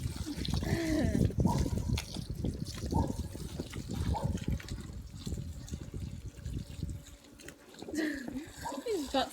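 Water splashes and trickles over a very dirty dog being rinsed, an uneven close spray under excited talking and exclamations.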